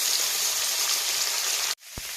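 Onion, tomato, papaya and potato fry in a pan with a loud, steady sizzle that cuts off abruptly near the end, followed by a brief thud and renewed sizzling.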